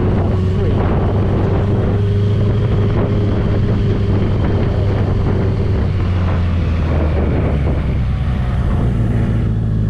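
BMW K100 cafe racer motorcycle engine droning steadily at high revs while riding, loud and continuous with heavy wind buffeting over it.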